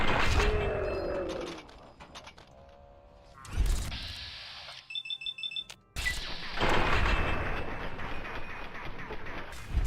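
Automated turrets fire in Fallout 3, a mix of heavy bursts and rhythmic rapid pulses with beeping electronic tones and mechanical clanks, loud and close throughout.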